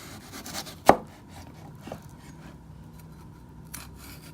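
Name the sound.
knife carving the flesh out of a bell pepper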